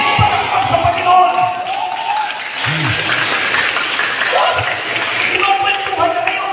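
A church congregation claps during a Filipino worship service. The applause is loud, steady and sustained, with scattered voices and some thumps mixed in.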